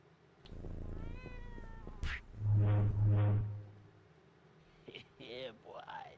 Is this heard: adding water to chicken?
no